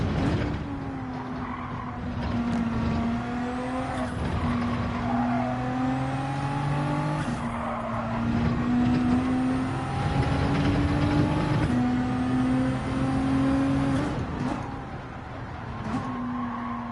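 Race cars, including a BMW M3, lapping Spa in the video game Gran Turismo 7, a steady loud engine drone with gear-change pitch steps and rising revs, several cars close together throughout.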